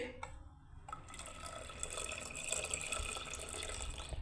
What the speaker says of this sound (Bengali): আমি এবারে দুধটাকে ঢেলে দিচ্ছি বন্ধুরা এর মধ্যে